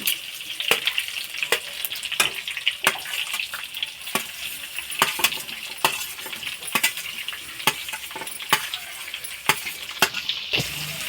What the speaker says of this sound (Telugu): కరివేపాకు చిటా పటా చిటా పటా అంటుంది